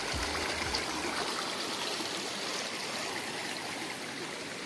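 Stream water flows at Manudevi waterfall in the Satpuda hills, a steady, close, continuous rush and gurgle that holds even throughout, with no voices.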